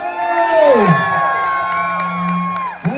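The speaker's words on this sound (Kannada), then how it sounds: "ಬನ್ನಿ ಜೋರಾದ ಚಪ್ಪಾಳೆ." A crowd at a Kannada community celebration in Dallas cheers and whoops loudly and continuously, with rising and falling shouts over a dense wash of voices and a brief sharp burst near the end.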